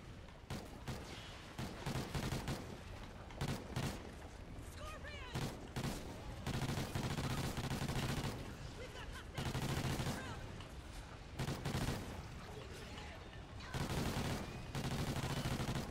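Rapid gunfire in a zombies video game, bursts of automatic shots repeating across the whole stretch, loud and dense with game sounds, a voice talking briefly.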